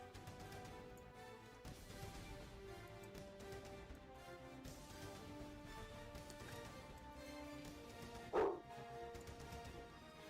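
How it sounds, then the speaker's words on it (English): A single sharp dog bark rings out once, briefly, over a quiet background of faint music and game tones during a custom zombies map session. "I hear doggo. Did you feed the dog?"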